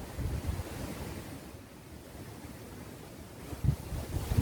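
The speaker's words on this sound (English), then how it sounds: "Wind is getting up here," Gusty wind buffets a night campsite and a DD tarp tent, roaring as a steady low rush with louder swells near the end and no voices.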